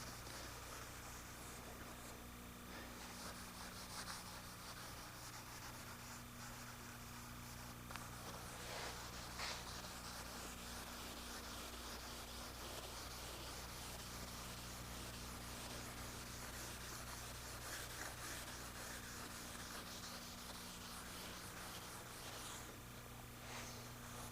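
Sandpaper rubs by hand along the grain of a wooden cabinet's finish, a faint, steady scratchy swishing over a constant low hum, with no speech.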